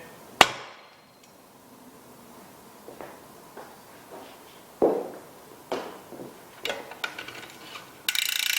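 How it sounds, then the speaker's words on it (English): A bicycle crankset axle, the spindle of a standard Shimano 22-32-44 triple nine-speed chainset, being tapped through from the left side: a few separate sharp metallic knocks spread over several seconds, close by, with small rattles between them and no talk. "we need to tap the axle through just to get the right hand side moving"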